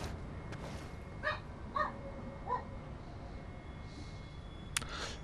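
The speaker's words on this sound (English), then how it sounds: "the fact my dog just randomly starts barking" A dog barks at random indoors while a tense horror game plays on a PS5, giving a few separate, fairly faint barks or yips spaced over several seconds above low background noise.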